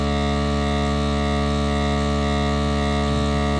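A Black and Decker Fresh Guard vacuum sealer running through its sealing cycle, giving a steady, loud electric hum with strong harmonic buzz that holds unchanged for the whole stretch, alone without talk.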